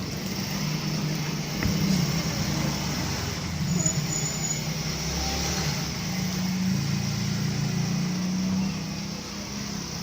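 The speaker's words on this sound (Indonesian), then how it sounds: "Ini saya coba di motor saya Jupiter." A Yamaha Jupiter motorcycle engine runs steadily on a freshly charged battery, a continuous low motor hum held near and fairly loud for the whole stretch with no one speaking.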